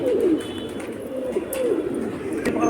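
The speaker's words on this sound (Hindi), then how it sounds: "ये भी बहुत अच्छा कबूतर है।" Pigeons on a Bhopal rooftop give soft, repeated rolling coos, close and clear against a faint background hum, with no talking over them.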